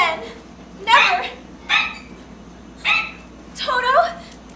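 A dog in a 2005 stage production of The Wizard of Oz gives four short, loud yapping barks, evenly spaced and close, with quiet gaps between them.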